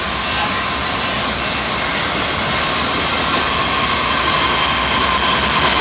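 A coal train with Santa Fe and BNSF locomotives passes close by as a loud, steady, broadband roar of rumbling and rolling noise. It lasts throughout without a break, and no one speaks.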